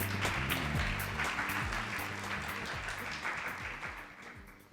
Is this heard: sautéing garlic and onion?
no